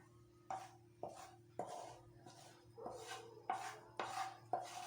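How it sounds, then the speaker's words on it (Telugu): A spoon scrapes and knocks against a pan, about eight sharp metallic hits in a steady rhythm, as a Mysore pak mixture is moved into a ghee-greased bowl, close and clear over a faint hum. "ఇప్పుడు స్టవ్ ఆఫ్ చేసేసి మనం నెయ్యి రాసుకునే బౌల్లోకి ట్రాన్స్ఫర్ చేసుకుందాం"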